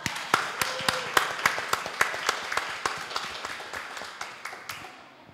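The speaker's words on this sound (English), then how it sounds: "Let's clap." A small group claps in a steady, evenly paced rhythm, sharp distinct hand claps repeating roughly every quarter second, close and clear, gradually easing in loudness toward the end.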